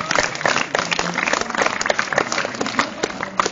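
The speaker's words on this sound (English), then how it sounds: "Give yourselves a round of applause." An audience at a concert gives a round of applause, scattered clapping with distinct individual hand claps heard close by, moderately loud and uneven over a few seconds.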